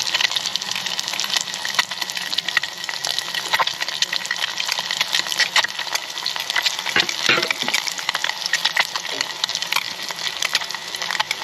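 Eggs frying in a pan on a home stove, a steady close hiss and sizzle with crackling spatter throughout, under occasional faint background sounds.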